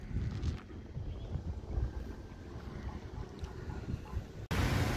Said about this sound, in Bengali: হালকা হালকা একটা ঠান্ডা হাওয়া বইছে সমুদ্রের দিক দিয়ে